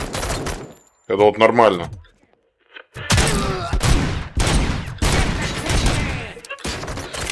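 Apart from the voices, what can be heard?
gunfire in a video game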